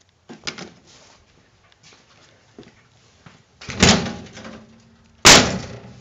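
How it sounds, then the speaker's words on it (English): The steel door of a 1972 Chevy pickup truck is swung and shut twice, with two solid, loud slams after some quieter handling clicks. "Door shuts perfectly."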